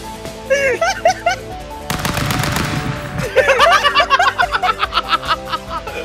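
Gunfire in the video game Stick Fight: a short burst of rapid-fire shots in the middle, with voices laughing and chattering before and after it.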